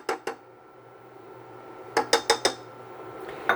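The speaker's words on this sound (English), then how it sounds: "I want to add the egg white powder and the egg yolk powder and whisk that all in" Whisk clinking against a bowl while egg white powder and egg yolk powder are mixed in, two taps and then a quick run of four close strokes, with a last tap at the end over a quiet hum.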